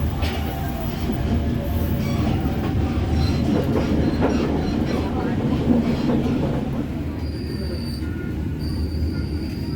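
A Parahyangan passenger train makes a brief stop at Kiara Condong station and departs again, giving a steady loud rumble with rail clatter and squealing wheels, plus a high tone near the end and voices in the background.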